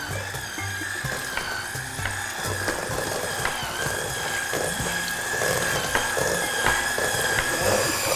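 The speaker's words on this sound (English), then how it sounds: "We're gonna mix all this together with a hand mixer." A hand mixer whirs steadily through thick cake batter, a buzzing mechanical hum with faint clicks and ratcheting rattles from the beaters against the bowl, heard close and continuous.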